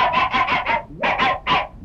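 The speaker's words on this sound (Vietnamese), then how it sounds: "Con khách nào ta tới mà chó sủa dữ vậy cả?" A dog barks in quick repeated bursts, a run of four then three more, loud and close with no talk over it.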